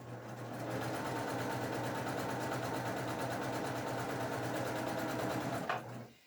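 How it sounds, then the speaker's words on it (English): A sewing machine runs continuously while chain piecing quilt block triangles, a close steady whirring stitch that stops abruptly near the end. "I'm going to go ahead and sew the top 2 triangles together. I like to chain piece while I'm working on my project."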